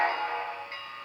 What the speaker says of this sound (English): Short whistle.